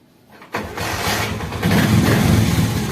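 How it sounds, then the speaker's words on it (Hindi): A Honda CD 70 motorcycle starts after a brief quiet moment, then its small engine settles into a steady, close idle that grows a little louder. "तो जैसे मैं इसको यहाँ स्टार्ट करता हूँ बाइक को,"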